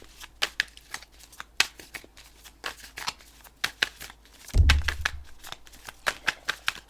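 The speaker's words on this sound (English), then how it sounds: "And we're going to pull one more card out." Tarot cards riffle and flick in a quick run of crisp snaps, broken midway by a heavier muffled thump as cards are shuffled and pulled close by.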